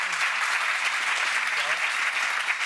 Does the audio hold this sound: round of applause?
yes